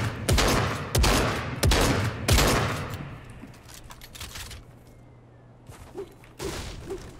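Auto shotgun in the video game Fortnite firing four heavy blasts at a slow, even rhythm, loud and close, followed by quieter scuffling and a couple of faint later shots.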